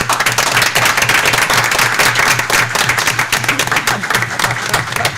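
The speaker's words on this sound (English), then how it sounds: "Give him a round of applause." Attendees at a District 155 school board meeting give a round of applause for the new Cary Grove High School principal, brisk, fairly close clapping that holds steadily over a faint low room hum.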